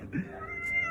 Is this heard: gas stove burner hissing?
no